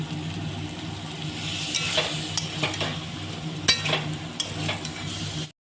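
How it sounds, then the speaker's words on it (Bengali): Fried potatoes being sautéed with spice paste in a pan for an egg curry, a steady close sizzle with scraping stirs and occasional sharper utensil clinks against the pan. "এবার ভেজে রাখা আলুগুলো মশলার সাথে দিয়ে আরও একটু কষিয়ে নেব।"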